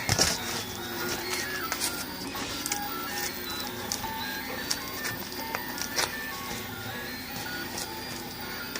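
A 3D printer runs a print at reduced speed, its stepper motors whirring and chirping in shifting tones with small clicks and taps, steady and fairly close with no talk.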